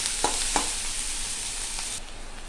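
Onions hiss and crackle as they fry in a hot pan, a steady close sizzle with two or three quick scraping strokes of a spatula near the start.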